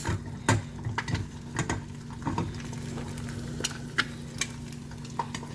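A sunny side up egg frying in butter in a pan gives a steady, close sizzle with small crackles and occasional light spatter pops, no voices over it.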